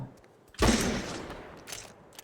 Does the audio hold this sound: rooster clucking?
no